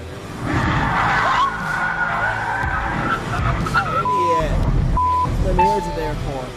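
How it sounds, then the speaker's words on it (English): A Hyundai clips the front of a semi truck in the neighboring lane and spins out, with a loud, sustained rush of road and tire noise, a brief screeching sweep, then sharp tonal squeals near the end. "The driver of the Hyundai didn't realize a semi was driving in the neighboring lane and clipped the front of it, sending them into a spin."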